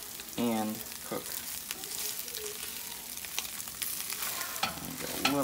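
Slices of French toast frying in butter in a hot pan give a steady, close sizzle with scraping and shuffling as they are moved around, and a few short voiced sounds break in.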